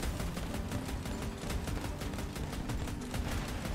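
New autocannon shells exploding in the vehicle combat game Crossout, a dense, rapid run of sharp blasts landing in quick succession, loud and continuous with a rough rumbling tail under each burst.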